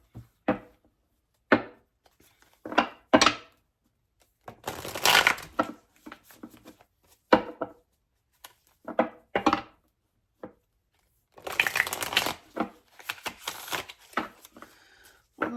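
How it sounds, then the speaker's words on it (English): Tarot cards being shuffled by hand at close range: sharp riffling bursts and short flicks separated by quiet pauses, with two longer, denser shuffles partway through and no talking. "One more shuffle."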